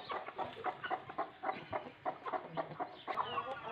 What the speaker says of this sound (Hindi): अब हमारी कुछ मुर्गियाँ जी इधर अंडे दे रही हैं